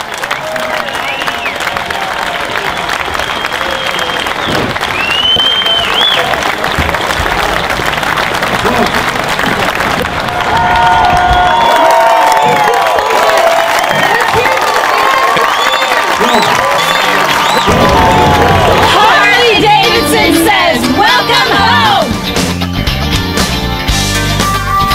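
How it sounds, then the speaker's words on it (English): Concert audience at a fundraiser applauding and cheering: sustained loud clapping with whistles and shouts, swelling into louder cheering near the end, with voices calling out over the crowd. "Let's give Shad a round of applause here"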